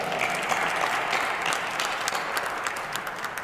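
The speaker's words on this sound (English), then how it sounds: "We can clap for that, by the way." A steady round of applause from an audience at a Cleveland mayoral announcement with Huntington Bank, with continuous clapping that fades slightly toward the end.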